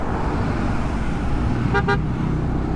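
Road traffic outside a Philippine LTO office, a constant roar of passing vehicles with a short double toot of a car horn near the end.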